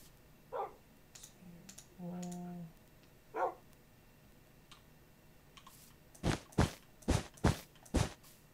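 Dogs in the Minecraft video game make a few soft, quiet barks and whines early on. A run of five loud, sharp clicks follows near the end over a faint steady background, with no talking.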